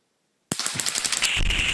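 Rapid burst of gunfire from a Marlin Model 60 rifle fitted with a BMF activator, loud quick cracks erupting after silence and blurring into a sustained ringing roar.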